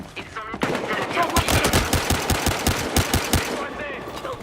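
Heavy pistol fire in the online shooter Battlefield Hardline, a rapid run of a dozen or more sharp shots in quick succession amid game noise, with a voice talking faintly underneath.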